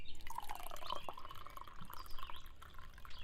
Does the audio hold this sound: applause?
no